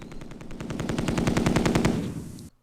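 Rapid machine gun fire from the tabletop-style war game Tigers on the Hunt, a steady burst of evenly spaced shots for over two seconds, loud and close, ending abruptly with no voices.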